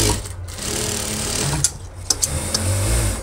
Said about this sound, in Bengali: এখন সেলাই করব যেটার মধ্যে চেন হয় সেই পার্টটা